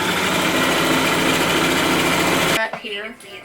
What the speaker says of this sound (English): We're just gonna do like a quick basting stitch